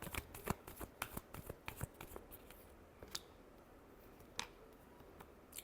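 A deck of tarot cards gets shuffled with quick crisp riffles and flicks, a burst of rapid snaps early and then scattered softer clicks, close and quiet with no voices.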